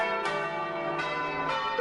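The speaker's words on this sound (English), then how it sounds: "The church bells rang out over the city" Church bells ring out over a city in three loud, resonant strikes, each one overlapping the long humming decay of the last, with no voices present.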